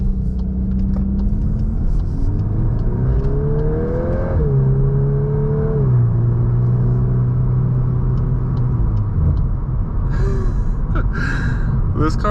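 A VW Golf R MK8 launches hard using launch control, its engine note rising steadily through the gears with a shift dip partway, loud and continuous from inside the car, with faint rattles near the end.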